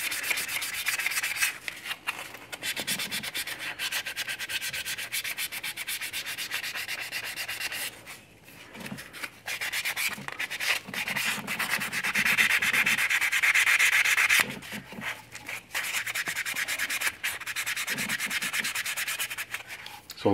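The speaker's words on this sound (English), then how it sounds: "Lots of sanding." Steady back-and-forth sanding on a 1/6 scale vinyl model kit with the primer coming off. The rasping rub is close and continuous, with a few brief pauses, and no voices.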